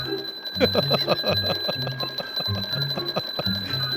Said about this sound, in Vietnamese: Cái quái nào nó lại phát nổ một cái khí trắng, rồi tiếng còi báo động inh ỏi lên.